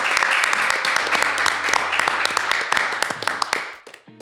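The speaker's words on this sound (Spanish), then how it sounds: "Fuerte el aplauso para este capítulo de Camarín 90" Studio audience applauding at the start of a Chilean sports talk show taping, loud, dense clapping with cheers that fades out near the end.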